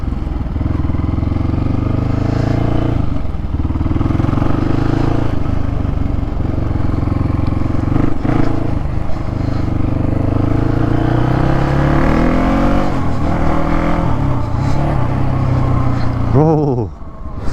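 A Polaris Predator 500 ATV engine runs loudly and steadily throughout a ride, with a rising rev near the end, while someone talks excitedly over it.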